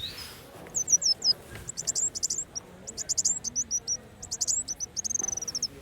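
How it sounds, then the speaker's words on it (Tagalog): Quick high chirping bird calls come in repeated short bursts, some trilling rapidly, fairly faint over a soft background hiss, at Queen Sirikit Botanical Garden in Thailand. "Yan, yung ibon na yan."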